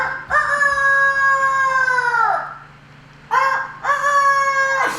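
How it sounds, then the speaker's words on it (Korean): Traditional Korean native chickens: a rooster gives a long, loud crow, falls quiet briefly, then crows again close by, with faint clucking in the gaps. "좋은 이 음식을 먹고 자란 우리 닭들"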